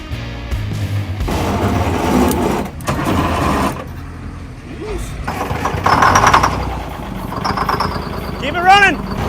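A classic Detroit Diesel truck engine, off the road for 25 years and with a bad starter, cranks and then clatters into a rough, loud idle while several people talk excitedly nearby.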